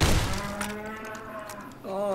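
A cow lows in the video game Fallout New Vegas, a drawn-out moo heard clearly at moderate volume, followed by a second, rising moo near the end.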